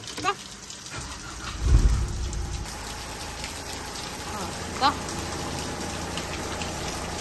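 Steady rain falls over farmland, a soft constant hiss on surfaces, with a couple of brief louder thumps rising above the wash.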